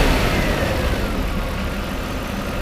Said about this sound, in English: I give it a little blip